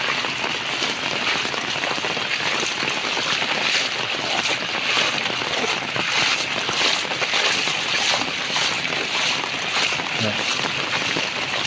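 Floodwater rushes across a road washed out by heavy rain in a cassava-farming area, a continuous loud, broadband wash of flowing water with possible rain, filling the scene without pause.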